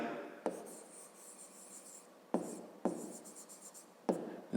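An equation written by hand in a math lesson, with faint close scratching strokes broken by a few sharp taps of the pen or chalk, quiet and alone.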